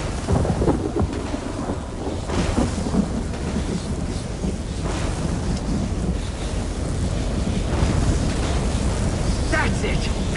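A video game thunderstorm rumbles continuously with heavy rain and wind, loud and dense throughout, with a few sharper cracks of thunder and lightning rising out of the steady roar.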